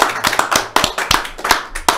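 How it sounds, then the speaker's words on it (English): A few people clap in a small indoor room, giving sharp, close claps in an uneven rhythm, about a dozen distinct hits over two seconds with no talking. "Can we get a round of applause"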